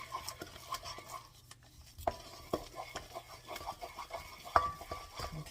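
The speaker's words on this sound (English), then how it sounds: "you're going to want to mix this with a wooden spoon or like a really hard spoon" A wooden spoon works thick eclair choux dough of flour in a pot with intermittent scraping and knocking strokes, close and uneven, with no voices.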